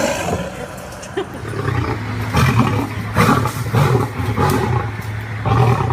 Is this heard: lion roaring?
yes